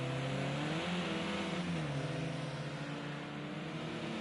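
A racing car engine drones through a chicane on a circuit, one continuous loud tone that dips slightly in pitch midway and then holds steady, with no talking.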